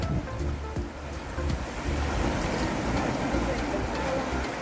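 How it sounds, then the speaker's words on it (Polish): Steady, loud roar of surf on the coast of Malta in January, with gusty wind buffeting the microphone, water rushing continuously close by and no clear single break standing out. "Idzie większa fala."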